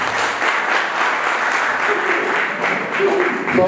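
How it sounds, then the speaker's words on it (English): Audience applause at a school financial literacy debate in a House Assembly setting, a steady dense clapping that holds for several seconds, with faint voices and a brief tonal sound near the end. "A round of applause, please."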